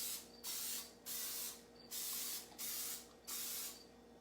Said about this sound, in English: And I'm just going to spray each one.